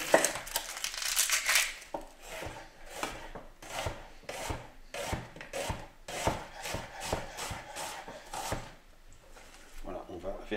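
Onions are chopped with a knife on a board while cooking pork roast in white wine, making a quick run of crisp, fairly close cutting strokes in an uneven rhythm.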